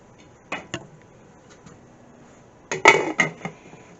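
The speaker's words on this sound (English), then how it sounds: "Now I'm going to put the lid back on" A metal lid set back onto a skillet of shrimp paella, giving a couple of light clinks followed by a louder clattering rattle as it settles, close up and with no voices.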